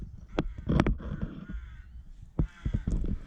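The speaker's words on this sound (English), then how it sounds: "And fucking bird." Several harsh crow caws in quick bursts, close and loud outdoors on a fine day, with short pauses between calls and a final cluster of caws near the end.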